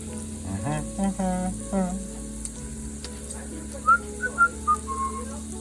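Eggs stirred in a pan with frying pancetta, a steady close sizzle running throughout, with a voice murmuring briefly at the start and a few short high whistled tones near the end.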